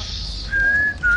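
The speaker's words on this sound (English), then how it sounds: "Whoever's whistling that, please stop" Someone whistles a tune during an ARK game livestream, with one steady clear note held and then a second higher one, loud and alone.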